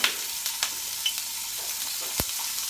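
Minced ginger sizzles in hot oil in a pan, a steady close crackle with a few sharper pops and one louder spit near the end.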